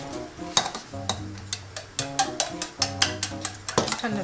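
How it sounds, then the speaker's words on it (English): Chopsticks beat egg in a bowl in a quick, uneven run of close clicking taps and scrapes, fairly faint and continuous. "Kind of stir it"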